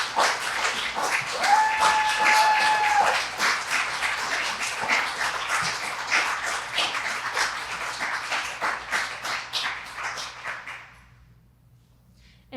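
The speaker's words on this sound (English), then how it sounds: "And also a round of applause for Asante and Abby." An audience claps in dense, sustained applause that swells and then fades out to near silence, with a brief tonal whistle heard early on.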